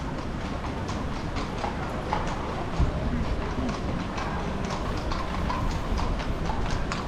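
Horse hooves clip-clop steadily as a white-horse Fiaker carriage moves through central Vienna, a continuous rhythmic clatter over constant street and traffic noise, with faint voices in the background.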